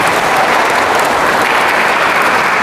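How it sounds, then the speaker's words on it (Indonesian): An audience applauds for a fellow student in a character-building webinar for UNRAM scholarship students: a loud, sustained wash of many hands clapping, continuous and even throughout. "Berikan aplaus buat teman Anda."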